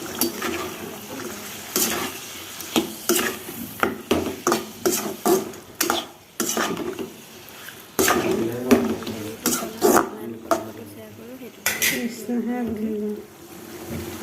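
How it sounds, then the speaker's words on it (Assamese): Chicken curry being stirred in a pan in an Assamese-style kitchen: a run of sharp scraping and clacking strokes, close and fairly loud, repeating irregularly under a voice talking throughout. "বেছিকৈ মিক্স কৰি দিছোঁ"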